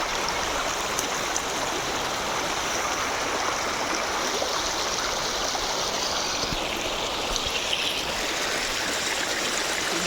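Cold stream water rushes over the stones at Sada Pathor in a loud, continuous, close-up roar with no voices.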